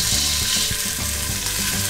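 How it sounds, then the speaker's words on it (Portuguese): Pieces of beef browning in a hot pot for a Brazilian vaca atolada stew sizzle and fry steadily, with a dense crackling hiss and occasional soft stirring knocks. No one speaks over the sizzle. "a gente vai deixar essa carne bem douradinha"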